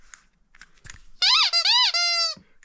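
Vintage 1970s rubber cat toys give a few faint squeaks, then a long loud wavering squeal from their squeakers, close up and sustained for about a second before stopping.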